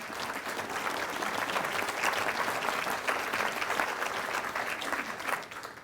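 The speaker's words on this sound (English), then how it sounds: "now is that part where you can clap for our Family Engagement Office once again" Sustained applause from a school district audience, steady and dense clapping throughout, tapering slightly at the very end.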